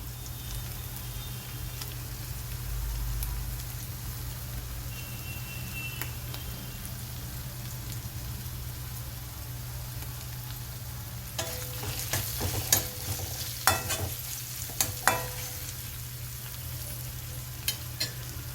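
Turmeric ginger garlic paste fries in a pan with a smashed boiled potato for panipuri hot chaat: a low steady sizzle and hum, then a burst of scraping stirs and clanks near the end, with no speech.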